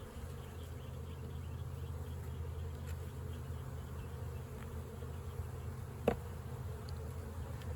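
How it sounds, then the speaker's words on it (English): Honeybees in an open beehive hum in a low, continuous drone, with a few louder bees zipping close past at moments. "A lot of young bees on this one."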